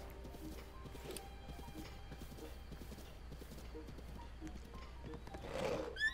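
Steady, rhythmic hoofbeats of a galloping horse in the video game Breath of the Wild, running continuously at a moderate distance, with a brief louder burst near the end.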